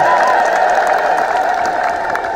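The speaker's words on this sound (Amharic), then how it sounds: "እልል ብላችሁ እግዚአብሔርን" A church crowd at an Ethiopian Orthodox Tewahedo church inauguration in Gurage ululates in praise of God, a loud sustained high trilling chorus mixed with cheering and some clapping.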